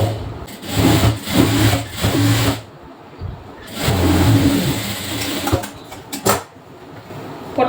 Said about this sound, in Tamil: தையல் போட்டுக்கிறேன்.